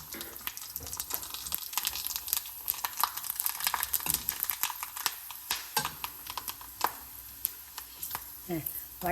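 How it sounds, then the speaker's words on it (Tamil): Sago fritters deep-frying in hot oil, a soft, crackling sizzle with many quick popping bursts, moderately loud and close throughout. "இப்போ நான் உங்களுக்கு பொரிச்சு காட்ட போகிறேன்"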